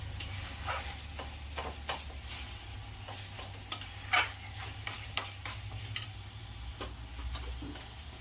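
Spoon stirring chicken masala into egg curry in a pan, with irregular scraping clinks and taps over a soft low sizzle, fairly faint and close.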